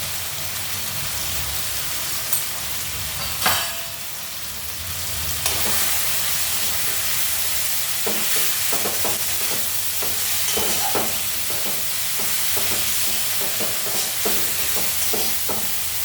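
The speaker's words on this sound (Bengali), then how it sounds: "এটাকে ভালো মতো কষিয়ে নেব" Ground cumin and Kashmiri red chilli spices sautéed in a pan for a soybean curry: a constant close frying hiss, with a few loud clatters early on and then steady stirring scrapes, no talking.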